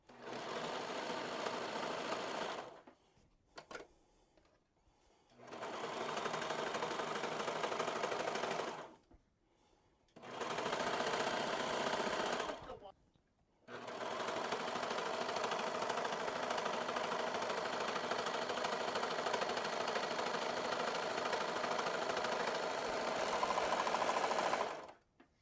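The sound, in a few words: serger overlocker sewing a swimsuit seam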